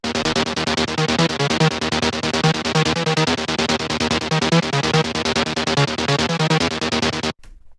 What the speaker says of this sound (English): The first sound we have here is this lead bass